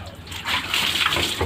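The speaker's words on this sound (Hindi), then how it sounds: "फिर सर पर 3 बार पानी बहाना है" Water poured in repeated splashes over a person's shoulders and head during ghusl, the Islamic ritual bath, running steadily and close, with a faint voice underneath.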